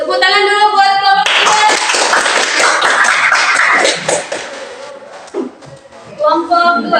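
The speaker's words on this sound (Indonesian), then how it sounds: "Tepuk tangan dulu buat kelompok" A seventh-grade Qur'an class at an Islamic school claps for a student group, a dense burst of many hands lasting several seconds, with a voice speaking before and after the applause.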